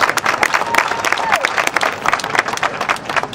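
An audience at a Dr. King remembrance gathering in North Charleston applauds Mayor Keith Summey, dense, steady clapping from a crowd throughout, with some voices mixed in.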